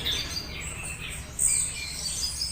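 An orange-headed thrush sings high, bright whistled phrases over a steady insect-like hiss and low background rumble, moderately close.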